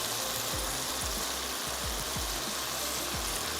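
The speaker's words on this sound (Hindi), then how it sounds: "भून लेते हैं बहुत अच्छे से" Whole spices such as bay leaf, cloves, black cardamom and black peppercorns sizzle steadily in hot oil in a pot for a beef biryani, a dense continuous frying hiss with a few soft knocks, close and alone.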